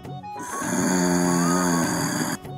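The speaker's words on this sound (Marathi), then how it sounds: "ही बघ जनावर कशी घोरतात ती." Loud, close snoring from people sleeping indoors: a single long, rumbling, droning breath heard clearly on its own.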